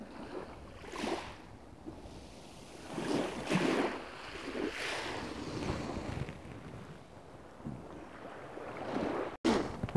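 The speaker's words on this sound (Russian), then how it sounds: "Чуть-чуть море вам в ленту." Sea waves wash onto the beach at Sukko in repeated surges, with strong wind buffeting the microphone throughout and no voices.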